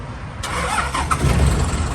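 A car engine cranks and catches, settling into a rough running rumble with low thumping and rising hiss; close and fairly loud, no talk.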